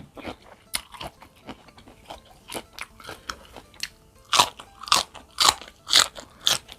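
Close, crisp crunching as crispy noodles in a spicy papaya salad with fresh shrimp and crunchy vegetables are bitten and chewed, with irregular bites that grow louder and sharper toward the end.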